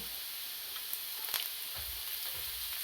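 Chopped coriander sautéing in a pan while pasta is being made, giving a faint, steady sizzle and hiss with a few light utensil taps and scrapes scattered through.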